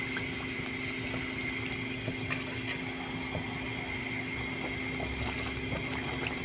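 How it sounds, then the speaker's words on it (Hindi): Khameer mini parathas deep fry in hot oil, a steady soft bubbling and hissing sizzle with faint crackles, close and continuous, with no voices. "इसे डीप फ्राई करना है।"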